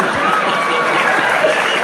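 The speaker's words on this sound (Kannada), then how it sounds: "ಈ ತರ ಮಾತು ಹೇಳಿದಾಗ ಹುಡುಗರೇ ಜೋರ ಚಪ್ಪಾಳೆ ಹೊಡಿತಾರೆ" Dense applause from an audience at a public speech, a steady loud wash of clapping with crowd noise, sustained throughout without a break.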